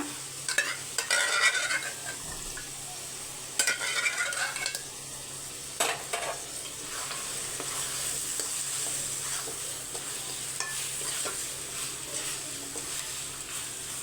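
Mutton stir-frying in a pan for a Madurai-style curry, with a steady sizzle throughout, broken by occasional scrapes and clinks of a spoon stirring against the metal pan.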